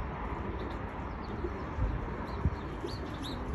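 Pigeons coo alongside a few faint bird chirps over a steady outdoor background, with soft low thuds and no talk.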